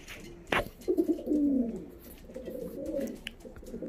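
Domestic racing pigeons coo in a breeder's loft, a near series of soft, rolling throaty calls with a sharp flutter or knock early on, over quiet room ambience and no talk.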